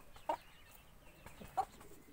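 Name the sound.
hen clucking to call others to grain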